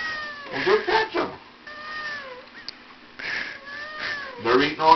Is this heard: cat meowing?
yes